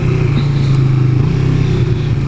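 Cruiser motorcycle ridden off road, engine revving loudly and close as it is pushed up for a wheelie, a continuous throaty drone with slight rises in pitch throughout.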